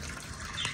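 Water is poured into a container to fill it, a soft, brief trickle and splash that stays quiet and close, with no voices.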